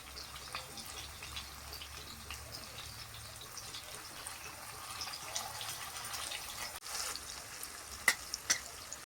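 Prawns fry in coconut oil in a pan with a faint, steady sizzle and light crackling pops, close but quiet, with no talking.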